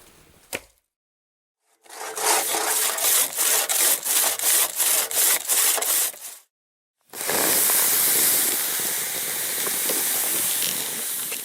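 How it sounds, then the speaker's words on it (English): A hand saw cuts firewood at a wilderness hot tent camp, giving about a dozen loud, steady rasping strokes, then a short pause and a long continuous stretch of close, harsh sawing with no talk. "I got a little bit of firewood cut up now"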